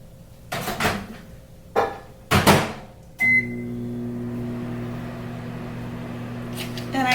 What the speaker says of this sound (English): microwave for 10 to 15 seconds